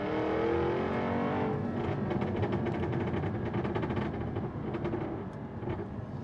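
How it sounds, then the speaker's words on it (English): A 2015 car's exhaust roars loudly and continuously up close, then breaks into rapid crackling burbles as it downshifts, with no talking. "this car definitely, it has the best sounding exhaust under 100 grand easy"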